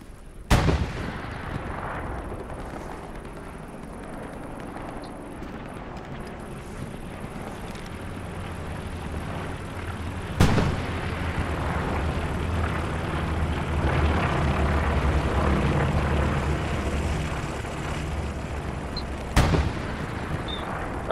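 Gunshots fired toward the player in the World War II shooter game Hell Let Loose: three sharp, loud cracks spaced several seconds apart, each standing out over a steady rumble of distant battle and engine noise, with no talk.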